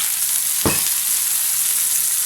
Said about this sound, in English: Okay, just let it sizzle there.